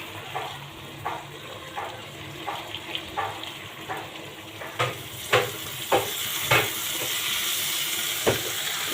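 Spinach and pabda fish simmer in a pan while a spoon stirs them gently, giving a steady low bubbling under a string of soft, evenly spaced scraping strokes that grow a little sharper and closer toward the end; no one speaks.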